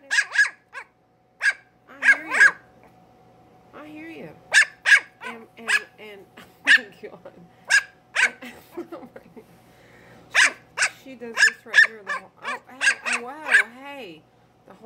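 Miniature Schnauzer puppy barking and yelping in repeated sharp bursts, close and loud, with brief pauses between volleys and some whiny rising yips.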